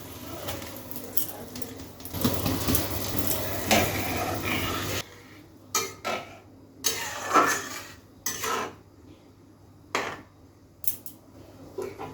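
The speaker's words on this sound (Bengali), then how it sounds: "এখন আমি ডালিয়াগুলো দিয়ে দিলাম" Broken wheat (dalia) tipped into boiling water in a cooking pot gives a loud, rushing hiss for several seconds, followed by quieter, intermittent scraping and stirring bursts.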